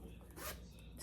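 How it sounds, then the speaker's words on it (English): A smooth zipper on an affordable luxury-style handbag pulled in one continuous, soft rasping sweep, close up and quiet, with light background noise. "Even the zipper"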